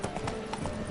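Roach, the horse in The Witcher 3, gallops with a quick, steady clip-clop of hooves at close range and a faint whinny mixed in, set against game ambience.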